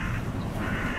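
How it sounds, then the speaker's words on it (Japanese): A crow cawing close and loud in a single harsh, continuous call lasting about a second. "カラス"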